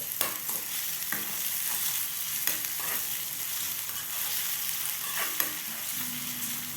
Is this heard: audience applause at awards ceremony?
no